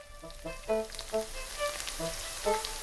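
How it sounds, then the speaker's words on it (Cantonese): Salted egg yolk pastry wrapped in lard slices and breadcrumbs deep-fries in a wok of oil, a soft, close bubbling sizzle with faint tonal pings over a steady hiss. "最後入油鑊炸透"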